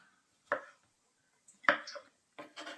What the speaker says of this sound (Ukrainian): Ріжемо всі грибочки.